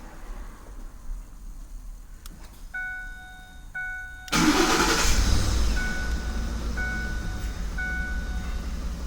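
A 2009-2010 Ford F150 is remote-started: a few faint chirps and beeps, then the engine cranks and catches abruptly, settling into a steady idle rumble with more beeps over it.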